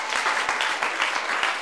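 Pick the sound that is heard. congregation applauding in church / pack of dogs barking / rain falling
congregation applauding in church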